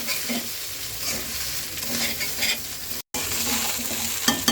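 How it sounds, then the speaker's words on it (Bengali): Leftover cooked rice stir-fried in a pan at home, a steady sizzle with scraping stirring strokes throughout and a brief dropout near the middle, no voices. "আর আমাদের বাসায় তো এই ভাত ভাজা খাওয়ার লোক আছে"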